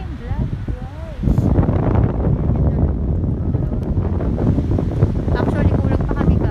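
Strong wind blows across the sea, buffeting the microphone with loud rumbling gusts that swell after the first second and stay heavy, with waves faintly beneath and a voice speaking briefly at the start.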